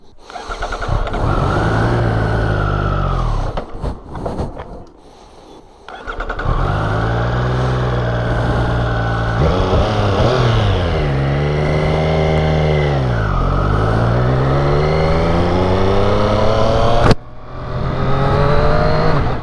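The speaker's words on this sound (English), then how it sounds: "let's start the bike and go for a ride." A 2021 Triumph Street Triple RS motorcycle starts up and rides off: the engine catches, revs loudly, dips briefly, then pulls away with rising and falling tones through gear changes, close and dominant, with no talk.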